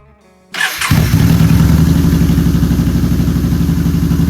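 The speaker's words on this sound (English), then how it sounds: "now we're gonna go ahead and run it, let it warm up again" A 2015 Yamaha Bolt motorcycle cranks briefly, then catches and settles into a loud, close, steady idle with an even, rapid engine pulse.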